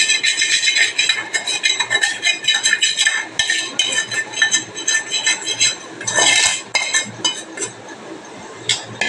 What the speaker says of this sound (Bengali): এখন ভালো মতন প্যানটাকে পরিষ্কার করে নেবো। যেহেতু মাছ ভাজা হয়েছে